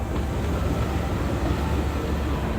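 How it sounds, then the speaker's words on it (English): A Walt Disney World monorail train passes close by at Magic Kingdom, a steady loud rumble of wheels and motors holding throughout with no talk over it. "I love this shot of the monorail here, right as it's coming by"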